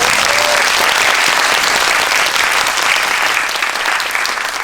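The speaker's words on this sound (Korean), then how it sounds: "또 큰 박수 한번 부탁드립니다." Loud, dense applause fills a movie theater as the audience at a film screening's guest talk claps for the director, many hands clapping continuously and close, tapering only slightly toward the end.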